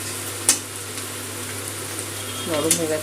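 Potato pieces fry in a pan with poppy seed paste, a steady sizzle with a soft clatter near the start and a louder burst of stirring and hiss toward the end, close up.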